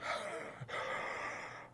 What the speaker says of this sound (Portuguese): Quando eu bocejo assim, ó, quando eu faço assim, ó,